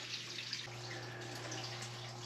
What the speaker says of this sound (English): we're going to wait till all of that running water stops